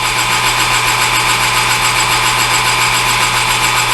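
A lathe hard-turns a hardened headstock center from eBay at about 800 RPM with a carbide insert, giving a loud, steady, unbroken mechanical drone with a constant hum and a faint high cutting hiss, with no voices.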